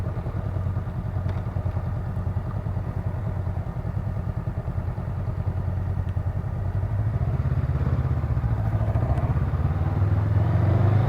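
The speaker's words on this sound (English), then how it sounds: "Little popping is actually heard." A 2019 Honda Rebel CMX500 motorcycle runs steadily while riding, its engine and exhaust droning loud and close, rising slightly in pitch toward the end with faint intermittent pops and no talking.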